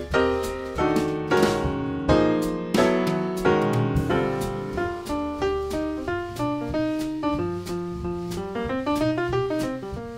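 Jazz piano heard in a full trio mix alongside two other instruments, bright repeated chords and melodic runs with punchy transients over a steady rhythmic pulse, close and prominent.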